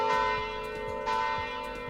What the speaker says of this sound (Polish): musicie jechać w stronę dzwonów kościelnych